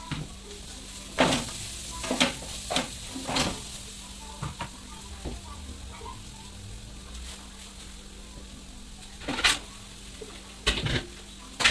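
Peas stir-frying in a pan for village-style UP matar nimona, with sizzling and repeated stirring scrapes in close bursts over a steady low hiss, no talking.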